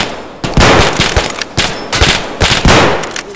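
Gunfire in the video game Escape from Tarkov: loud, close bursts of rapid automatic shots come in several waves with brief gaps between them, filling the scene without any talk.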